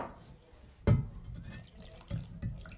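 Water is poured into flour batter already seasoned with salt, giving a few splashing, sloshing bursts against a quiet background.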